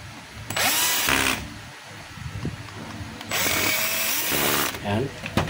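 A power screwdriver drives two screws in while a gear is fitted, sounding as two close whirring bursts with a pause between them and a voice talking through the work.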